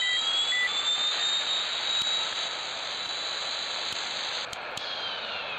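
Boeing 737-800 jet engine startup in a flight simulator game, a steady high whine and hum held throughout at a moderate level, with a few faint clicks and no talk.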